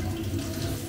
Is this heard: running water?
yes